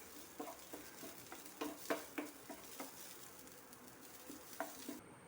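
Gentle sizzling in a pan with irregular stirring scrapes and light taps, fairly quiet and close.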